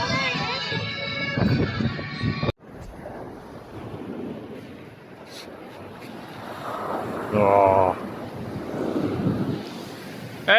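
Sea waves wash against big rocks along a rocky coast while wind buffets the microphone, a steady roar that swells louder near the end, with someone talking over it for much of the time.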